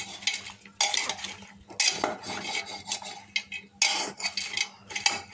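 A spoon stirs vegetables, salt and spices together in a metal pot, making close, repeated scraping and clinking strokes in uneven bursts with short pauses between them.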